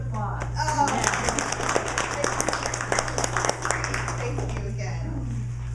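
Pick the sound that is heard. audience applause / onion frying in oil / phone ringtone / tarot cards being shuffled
audience applause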